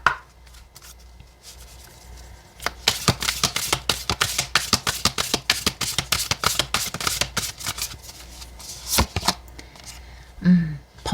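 Oracle cards being shuffled during a tarot reading, a quick run of crisp riffling flutters and soft slaps, close and fairly loud, following a few quieter card sounds at the start.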